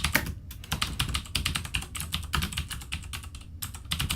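Rapid, irregular keystrokes on a computer keyboard while code is typed in by hand for a C# programming form, close and steady with brief pauses and no talking.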